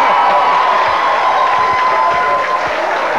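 A rowdy live television studio crowd cheers, whoops and applauds loudly and steadily throughout, a dense continuous roar with scattered shouts and no talk over it.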